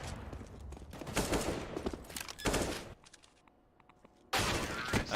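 Rapid bursts of AK-47 rifle fire in Counter-Strike: Global Offensive during a professional match on the Train map, loud repeated volleys separated by a brief quieter lull with faint clicks.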